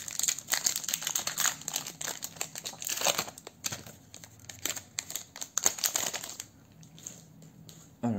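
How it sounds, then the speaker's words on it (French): Pokémon card booster pack wrapper being torn open and crinkled, with quick close rustles and crackles in bursts that fade to quieter handling. "On va commencer par ouvrir un petit paquet avec Zarude"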